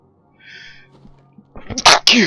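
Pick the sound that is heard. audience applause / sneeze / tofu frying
sneeze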